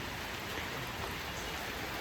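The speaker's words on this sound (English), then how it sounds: "It's pouring rain now." Steady pouring rain on a winter day outdoors, a dense continuous hiss of falling water with no pauses, heard alone.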